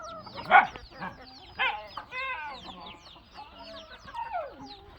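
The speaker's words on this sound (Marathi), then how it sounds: "पक्षी आता चारा खात आहे" Hens and small chicks cluck and chirp close by while eating hydroponic fodder, short irregular calls with a louder squawk early on, continuing throughout.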